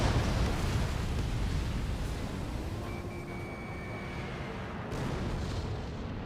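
Missiles and explosions in the jet combat video game Ace Combat 7 make a dense, continuous roar and rumble. Faint tonal warning beeps sit over a steady, loud wash of blasts.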